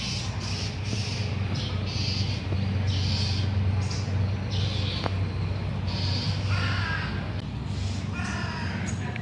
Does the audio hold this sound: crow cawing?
yes